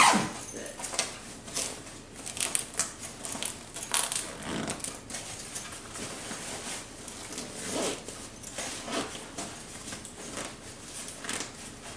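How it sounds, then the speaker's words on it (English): Zipper on a Tortuga V2 travel backpack being pulled closed in a series of short, scratchy, uneven zipping bursts with small rustles and handling knocks between them, close by and with no voices. "and we'll see how she zips."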